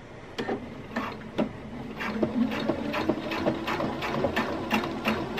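A sewing machine stitching a red bra into a halter dress, rapid mechanical needle chatter in irregular bursts with short pauses, close and fairly loud, no talk.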